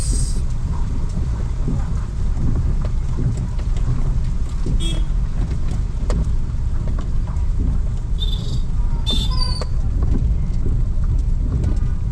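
Steady, dense rainfall on the Malshej Ghat road hissing continuously throughout, with a few faint high chirps and distant sounds over the downpour.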